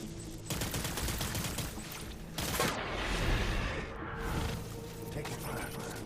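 Gunfire in the video game Death Stranding: bursts of rapid shots and mechanical clatter with loud, close booms. A voice speaks between the volleys.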